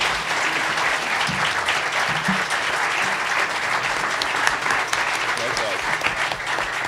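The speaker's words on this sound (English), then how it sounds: "Let's give all of our panelists a final round of applause." A final round of applause from a panel-event audience for its panelists, dense steady clapping filling the room throughout, with faint voices underneath.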